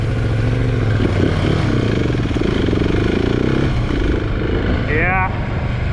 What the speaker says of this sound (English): Husqvarna 701 Enduro. Let's go for a burn and check it out